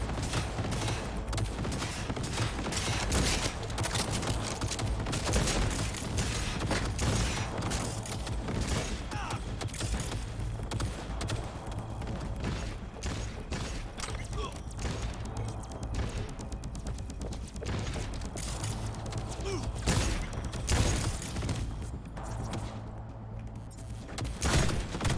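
Turret gunfire in Cyberpunk 2077 rattles in dense bursts of sharp, rapid shots, mixed with mechanical clanks and crashes at a moderate level and continuing for the whole stretch.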